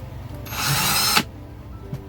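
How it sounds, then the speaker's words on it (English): A power drill whirs steadily for about three-quarters of a second, then cuts off abruptly, leaving quiet room noise. "I'm going to drill the holes for it."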